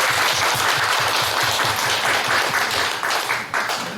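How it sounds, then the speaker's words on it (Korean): A church congregation claps steadily for the children, a dense wash of applause that holds loud and even, then thins slightly toward the end. "박수 한번 쳐주세요."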